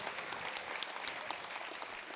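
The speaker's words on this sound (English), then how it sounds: "Guys, please give Kuni another round of applause." A round of applause at a corporate anniversary gala dinner, steady crowd clapping throughout, fairly distant and even, with no break and little talk.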